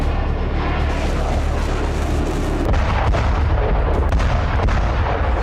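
A missile fired from a Russian fighter jet roars in a dense, continuous blast of loud rumbling noise, steady and heavy throughout with a slight shift partway through.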